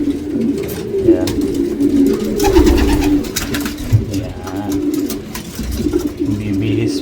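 Pigeons in a loft coo repeatedly close by, with soft throaty calls in a steady rhythm that continues over a rustling background, and someone speaks briefly now and then.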